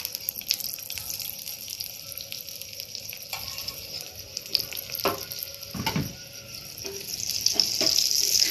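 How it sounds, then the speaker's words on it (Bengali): Lachha paratha frying in oil in a pan, a steady close sizzle with occasional stirring or scraping sounds, no talking. "নেওয়ার পরে এটা তেল দিয়ে ভালো করে ভাজতে হবে।"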